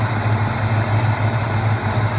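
A 1972 Chevrolet Cheyenne Super Sport big block pickup idles with a steady low rumble and a faint rhythmic pulse, close and continuous, with no talking.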